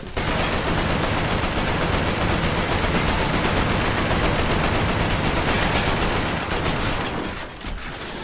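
Continuous dense gunfire from the video game Resistance: Fall of Man, a rapid sustained barrage of machine-gun style shots that stays loud and steady throughout, easing slightly near the end.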